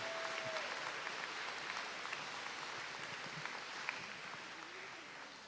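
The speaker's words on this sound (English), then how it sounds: "let us give a huge round of applause for our wonderful MC for today's celebration, Ms. Kahua Pilikong and Ms. Jody Ho." A crowd at a school Lei Day celebration applauds steadily, with continuous clapping at moderate distance and a few faint voices underneath.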